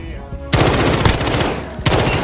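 Rapid automatic gunfire from the player's weapon in a shooter video game, loud and continuous bursts of dense shots with a brief pause midway, no talking over it.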